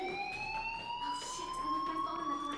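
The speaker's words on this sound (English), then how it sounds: "Do you hear that fire alarm? That means you should be outside." A fire alarm in the Life is Strange video game sounds a continuous electronic tone, layered and slightly rising in pitch, steady and fairly loud. No voices are heard over it.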